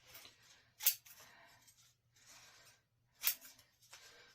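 Sewing scissors cut through fabric during a book repair, giving a series of soft, close snipping and sliding cuts, with two sharp, louder snaps of the closing blades.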